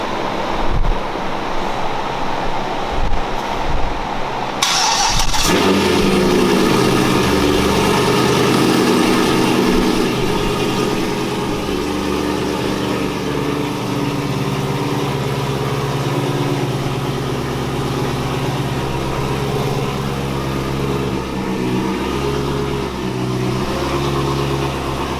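Freshly installed engine in a 2015 Corvette fires up at about five seconds after a quiet lead-in, then settles into a loud, steady idle with a constant low rumble and no voices.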